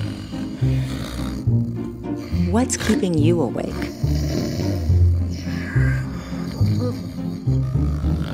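A person snoring in bed, with loud rumbling, rasping snores that repeat in a rough rhythm, mixed with a voice speaking over them.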